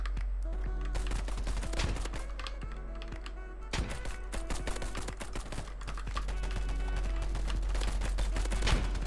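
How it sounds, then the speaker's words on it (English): Suppressed VSS rifle fire in the shooter game Polygon sounds as rapid clattering bursts of shots, repeated through the stretch with a brief pause midway, close and alone without talk. "We're missing a lot of shots right now."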